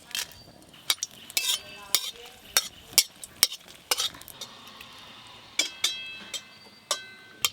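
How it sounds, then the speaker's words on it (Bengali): About four dried red chillies dropped into hot mustard oil, a soft sizzle beneath repeated sharp clinks and scrapes of a metal spoon against the pan, irregular and close. "গরম তেলে দিয়ে দেব 4টের মতো শুকনো লঙ্কা"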